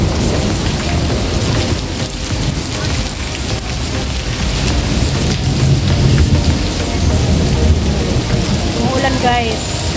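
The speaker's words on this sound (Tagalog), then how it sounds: "Umuulan guys" Heavy rain pours steadily with low rumbles of thunder rolling underneath, loud and close throughout, at Mandai Bird Paradise in Singapore.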